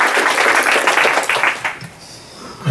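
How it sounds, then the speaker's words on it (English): An audience at a tech talk applauds a speaker taking the stage, a close, loud burst of clapping that fades out after under two seconds. "Big round of applause, please, for our second speaker of the evening, Alex."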